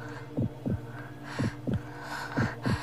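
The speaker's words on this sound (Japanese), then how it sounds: "心臓がドキドキして、" A pounding heartbeat thumps in three evenly spaced double beats over a low steady hum, loud and close, with no voices.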